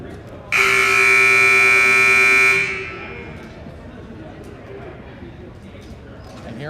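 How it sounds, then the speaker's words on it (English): A basketball game buzzer at a high school girls' varsity game, Hingham against North Quincy, sounds one loud, sustained blast of about two seconds over a steady crowd murmur, then fades into the gym noise. "Got 9 seconds left before the buzzer."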